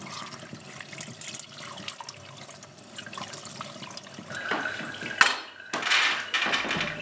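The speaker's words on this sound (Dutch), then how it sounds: "Spoel het daarna schoon met water." Pumpkin or courgette seeds rinsed clean under running tap water, a steady splashing stream with clinks of a bowl or strainer, close and alone.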